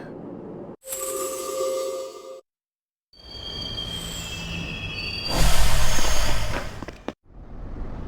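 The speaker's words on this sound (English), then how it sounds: "This is the final train bound for Tatsumi Port Island." A train in the Persona 3 Portable video game runs along its rails, with a rising mechanical hum, bright metallic wheel squeal and a loud rumbling surge, broken by abrupt cuts to silence between segments.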